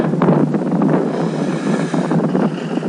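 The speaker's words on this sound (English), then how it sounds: "it's a little bit windy today" Strong wind buffets the microphone in a steady, rumbling roar that swells and eases slightly without pause.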